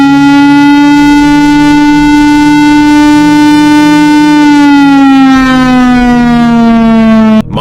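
Civil defense siren known as the Lion King, a loud, sustained wailing tone with rich harmonics that holds steady and then slowly drops in pitch before cutting off abruptly.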